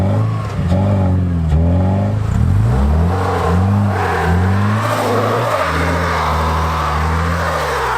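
A lifted off-road VW New Beetle stuck in snow revs its engine hard in repeated rising and falling surges, loud and close, then settles into a steady high drone near the end.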